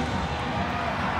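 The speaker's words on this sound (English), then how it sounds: "The roars of the crowd." Stadium crowd roaring at a women's soccer match in Seattle between the United States and Brazil, a steady dense wash of massed voices filling the whole moment without a break.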